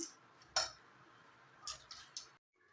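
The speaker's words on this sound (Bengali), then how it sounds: "এরকমভাবে গুড়টা আস্তে আস্তে দেবো আর এরকমভাবে নাড়বো।" Puffed rice being stirred with jaggery in a pan while the jaggery is added slowly, making a few sharp scraping clinks against the pan spread through a quiet stretch.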